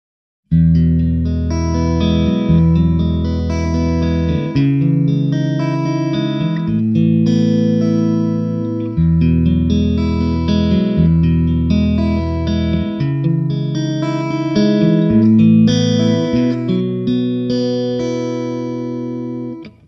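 Clean electric guitar through a Mesa/Boogie Electra Dyne 1x12 tube combo, clean channel, plays a steady sequence of chords and notes for about twenty seconds, bright and full with a slight shimmer, no voices.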